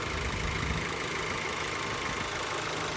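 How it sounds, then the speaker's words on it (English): A 2023 Volkswagen Golf R's turbocharged EA888 engine runs under the open hood, a quiet, steady idle hum masked by broad hissing noise, with no talking. "your standard EA888 engine"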